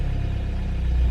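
A VW MK3 Golf Variant 1.9 TDI diesel with 90 bhp idles close up, a loud, steady low rumble with a regular clattering pulse and slight unevenness in the idle.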